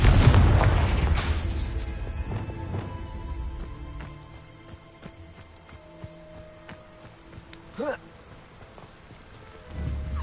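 A Confringo fire blast goes off in the Hogwarts Legacy video game, a loud, close booming burst that opens the clip and decays into scattered crackles and small debris ticks, with a brief whoosh near the end.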